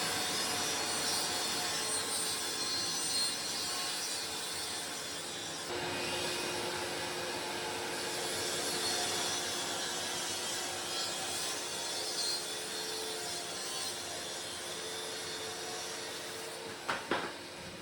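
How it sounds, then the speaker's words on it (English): A hand saw cuts through plywood for the bottom of a tool tray on a reclaimed-lumber workbench, giving a continuous rasping, scratchy hiss with a few sharp knocks near the end and no voices. "Now we need to cut the bottom for the tool tray, and I'm just going to cut that out of this piece of plywood."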